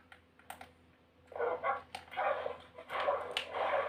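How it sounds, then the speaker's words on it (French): Dog barks and whimpers from the Minecraft video game, several short game sounds mixed with rapid keyboard typing and clicking, no talk. "Ok, je laisse mon chien là."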